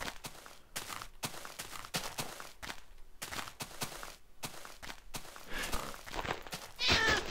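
Minecraft ocelot, the blocky wild cat, mewing a few times between game footsteps and thuds, with a louder cry near the end; no one talks.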